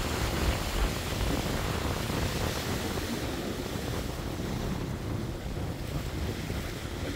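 Sea waves at Piedade beach in Jaboatão, Brazil, roar in a steady, loud wash of surf with wind buffeting the microphone, and no voices are heard.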